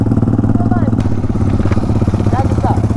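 Fully modified Yamaha R15 V3 sport motorcycle idling close up, its exhaust giving a loud, steady, throbbing beat that runs unbroken throughout.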